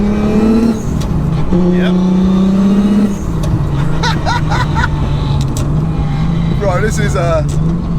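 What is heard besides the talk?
tuned car accelerating, pulling under throttle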